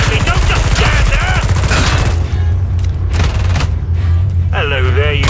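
Heavy gunfire in the zombie shooter Killing Floor 2, a loud continuous barrage of rapid shots and booms. Shouted game voices and creature cries sound over the shooting at the start and end.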